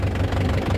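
A Mahindra 575 DI tractor engine runs while pulling a harrow in a field, giving a steady, loud, low diesel rumble with a faint knocking pulse and no voices.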